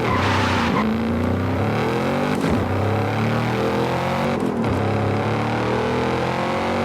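A synthetic-sounding video game Porsche Panamera engine in Test Drive Unlimited Solar Crown revs and shifts, rising and falling in pitch with brief whooshing bursts, loud and continuous without speech.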